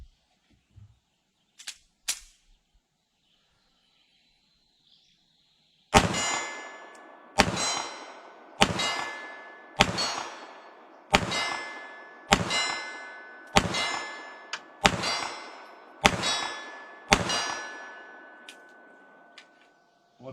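Shots from a small S&W Bodyguard 2.0 pocket pistol ring out in a steady series of about a dozen sharp cracks. Each one is followed by the metallic clang of a 25-yard steel plate, loud and evenly spaced outdoors.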